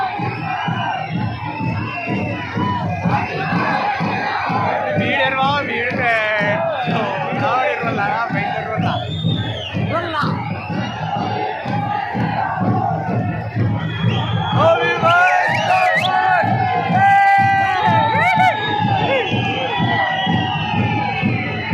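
A large crowd at an election rally for independent candidate Bobby Panwar, dense shouting and cheering voices rising and falling continuously throughout, loud and close with no pause.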